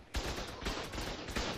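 Rapid gunfire during an Ark raid, repeated sharp bursts at a steady rhythm, faint and distant-sounding with no talking.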